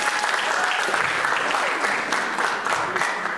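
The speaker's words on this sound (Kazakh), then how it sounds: "Кеттік бір шапалақ қойып" A stand-up comedy audience at a 2024 Kazakh show claps steadily and loudly throughout, a dense, even roar of hands with no pause.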